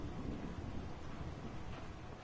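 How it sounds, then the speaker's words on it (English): A low, rolling rumble of thunder carries on steadily, distant and fairly faint, mixed with the hiss of falling rain. "Sounds like thunder."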